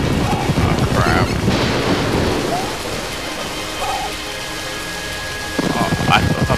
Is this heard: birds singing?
no